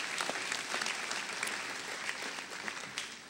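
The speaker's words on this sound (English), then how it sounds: "Give him a round of applause." Sustained round of audience applause at an Arkansas MLK Commission event at Philander Smith College, a steady wash of many hands clapping, heard at a moderate distance and easing slightly toward the end.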